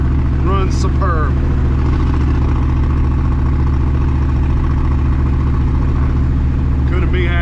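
A car engine with aluminum heads and shorty headers drives in third gear, a loud steady low rumble under continuous engine drone, close to the microphone, with brief bits of chatter near the start and end.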